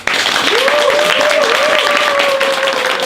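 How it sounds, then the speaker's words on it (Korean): Audience applause welcoming a pizza franchise vice president to the stage at a business meetup, a short burst of crowd clapping with a sustained tone running through it. "큰 박수를 부탁드리겠습니다."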